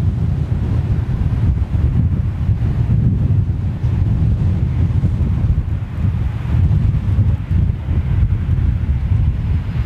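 Strong wind buffets the microphone at an airfield, a loud, constant low roar with gusty rumbling surges throughout and nothing else standing out.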